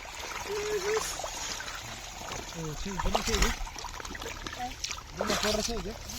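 Water runs into a container with a steady trickling, splashing flow while people talk over it.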